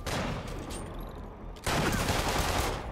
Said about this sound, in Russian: По полицейским стреляют снайперы.